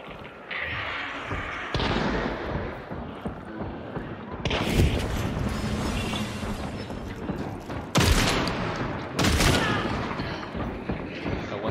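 Rifle or shotgun fire in a video game: several sharp, booming blasts cut through continuous in-game action noise while players talk over it.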